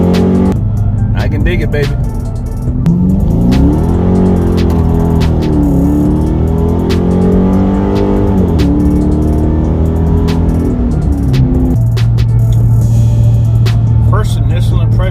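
Car engine under its first heavy acceleration in a tuned car with reduced turbo lag, a loud rising drone heard from inside the cabin that climbs and dips with the gears while someone talks briefly over it.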